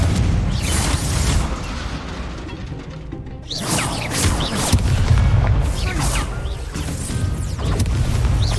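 A fire spell blast from Hogwarts Legacy: a series of loud, close booming bursts and whooshing crashes that fill the clip, pausing briefly before more roaring impacts continue.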